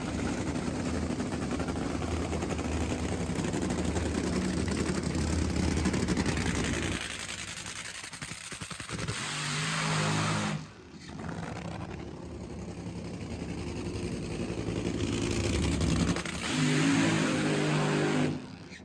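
NHRA drag racing cars revving hard during burnouts at the starting line: a loud, continuous engine roar that surges and dips, briefly cuts out, then builds again.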